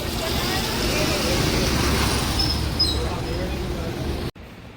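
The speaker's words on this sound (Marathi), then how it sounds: "हे बघा मागे सुद्धा बघा किती ट्रॅफिक आहे" Dense road traffic noise during a jam, a steady close rumble and hiss of idling and creeping vehicles that continues without a break and then cuts off abruptly near the end.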